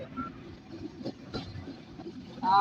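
A train rolls slowly along the track, a steady low rumble with soft clatter heard from on board, ending in a short, louder high-pitched whine.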